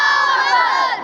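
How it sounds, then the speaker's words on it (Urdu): A crowd of school students shouts a slogan response in unison at a Youm-e-Takbeer school event, one loud sustained collective cry rising and fading over about a second. "تو عزیز طلبہ، بھرپور نعرے کا جواب دیجئے گا"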